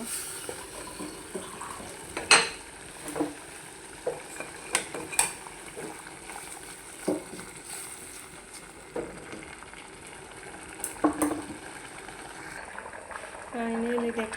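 Koi fish frying in a pan with satkara rind in a home kitchen, a low sizzle broken by repeated clinks and scrapes of a utensil against the pan, and a voice speaking at times over the cooking.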